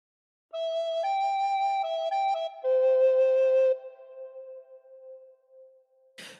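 A recorder plays a phrase of Amazing Grace: a short run of clear, breathy notes, some held, ending on a long sustained tone that fades out before a brief rustle.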